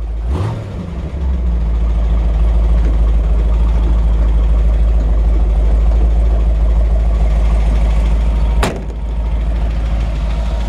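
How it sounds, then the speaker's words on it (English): A freshly rebuilt 302 car engine idles with a loud, deep, steady rumble close by, briefly dipping near the start and again after a sharp clack late on before settling back into its idle. "I love the sound of a 302."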